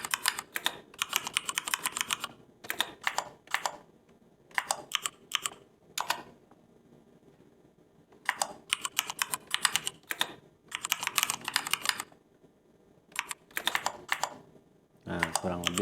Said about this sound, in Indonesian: Baru di sini ketik nomor halamannya.